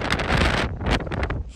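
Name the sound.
strong wind blowing on a high place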